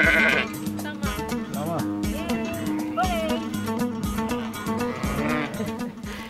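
Sheep at a Turkish farm bleat repeatedly, several overlapping wavering cries over a dense, busy background of farmyard noise.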